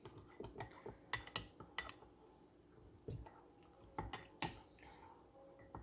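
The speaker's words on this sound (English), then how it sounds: "I'm going to go ahead and start mixing" A spoon clinks and scrapes around a mug while stirring a hot chocolate bomb, with irregular light taps and a few sharper knocks against the sides, close up, with no talk.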